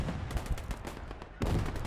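Machine gun fire in Gates of Hell, a World War II battle game, with bursts of rapid shots rattling at a moderate distance over a busy battlefield din.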